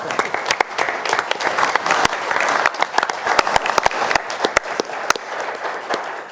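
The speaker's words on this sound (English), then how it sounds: "So I would appreciate actually a similar applause for Bryce for all of his hard work." A city council meeting audience applauds steadily, many hands clapping together in a dense, sustained round that holds at an even level throughout.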